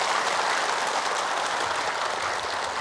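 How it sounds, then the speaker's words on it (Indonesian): Dense, steady applause from a large audience at an Indonesian religious lecture program, continuous broadband clapping that holds at full level throughout with no voices over it. "Tepuk tangan dong."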